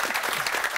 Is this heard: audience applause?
yes